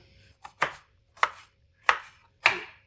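A knife cutting a potato into pieces on a board while making a breakfast dish, four sharp, evenly spaced chops, close and clear, with no talk.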